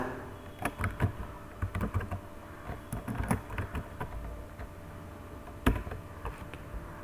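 Rapid keystrokes on a computer keyboard while text is typed into Android Studio, quiet irregular clicks with a few sharper taps over a low steady room hum.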